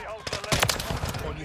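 Rapid automatic gunfire from a first-person shooter video game sounds in dense overlapping bursts, with a louder volley midway. Voices talk over the shots.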